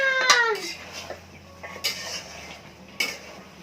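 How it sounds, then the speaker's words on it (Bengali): A metal spoon stirs a pot of rice cooking for biryani in a home kitchen, giving sharp, sparse metallic clinks and scrapes, three distinct knocks spaced over a few seconds against quiet background. "এখন আম্মু একটু নাড়াচাড়া করে দিতেছে"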